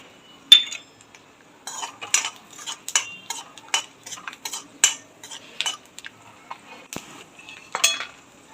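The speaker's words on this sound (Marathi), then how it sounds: "चारोळी पण तळून घेऊया" Charoli nuts fry in a pan while a spoon stirs them, producing sparse, close clinks and scrapes of metal in short irregular bursts with quiet gaps between.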